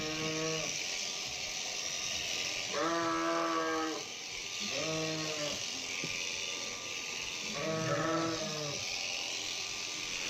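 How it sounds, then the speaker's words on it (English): Sheep bleating during shearing on a farm, several drawn-out calls repeating every couple of seconds over a constant loud buzz of electric shears, close by. "rolling the sheep around on its back like this doesn't hurt it at all, or else the sheep would let you know"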